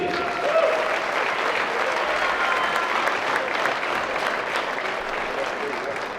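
A gymnasium crowd at a girls high school basketball game, Neillsville at Loyal, gives sustained applause for the players, coaches and support staff, a dense, steady wash of many hands clapping at once that holds throughout.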